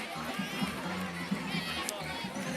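Crowd in the stands at a freshman high school football game between Smyrna and Blackman murmurs and chatters in a steady, moderately distant hubbub, with people talking nearby.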